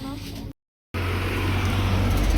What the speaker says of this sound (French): C'est fou ces gens qui font du bruit avec leur voiture là.